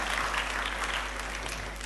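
Steady applause from a church audience during a sermon fills the whole stretch, dense and even clapping with no voices standing out.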